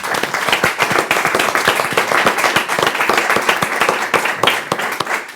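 Audience applause at a Spanish human resources sustainability presentation, a dense steady clapping from a sizeable crowd lasting throughout, loud and close with no speech over it.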